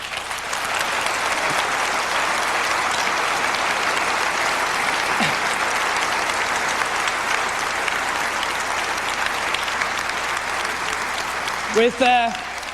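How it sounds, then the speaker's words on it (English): Steady, dense audience applause fills a large hall at the 1998 MacWorld New York keynote, sustained and even throughout before a voice briefly cuts in at the end. "I think it deserves a round of applause."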